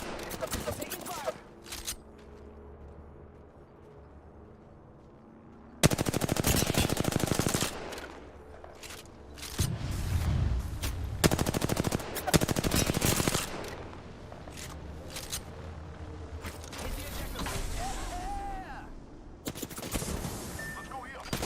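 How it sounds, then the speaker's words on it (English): Heavy automatic gunfire in a video game squad battle, bursts of rapid shots and loud sustained volleys rising and falling throughout, with a voice talking between the exchanges. "Another squad is attacking us"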